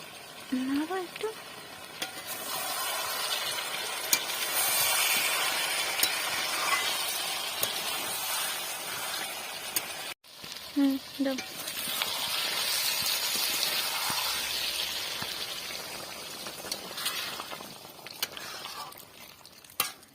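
Country chicken meat fries in oil in a pan, giving a steady sizzle throughout with repeated scraping strokes of a spatula as it is stirred. A voice speaks briefly near the start and again midway.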